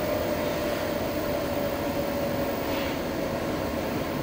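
Cooling fan of a Luxpower SNA hybrid inverter after its settings were lowered, a softer steady whir with a faint tonal hum, continuous, close and unaccompanied by voices.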